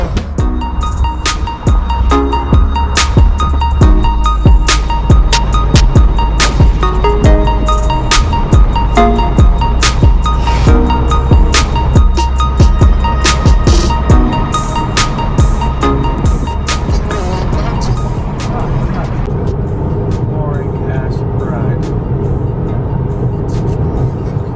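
A stock Nissan Z is driven on the road, its engine droning loud and steady from inside the cabin with shifting pitch and road rumble underneath, carrying on alone for a long stretch.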